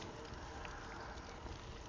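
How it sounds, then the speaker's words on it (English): Steady wind rushing against the microphone while cycling in Hokkaido, Japan, a constant broadband roar with no voices. "It's gotten quite windy"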